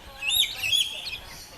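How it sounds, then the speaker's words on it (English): Birds at Jurong Bird Park give a quick burst of high, bright chirps and tweets, close and fairly clear over a quiet background, lasting under two seconds. "Let's see if the birds will come up again."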